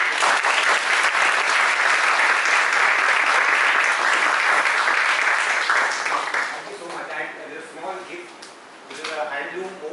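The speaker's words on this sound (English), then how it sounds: "So can we give a big round of applause?" Loud, dense applause from an audience at a talk on village assemblies, sustained for about six seconds before thinning into scattered claps and a few voices near the end.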